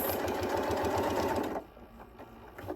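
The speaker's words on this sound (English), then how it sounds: "Lift it and turn it and sew across." Sewing machine stitching a two-toned zipper tote bag, running in a fast steady rhythmic whir for over a second, then stopping to quiet handling clicks.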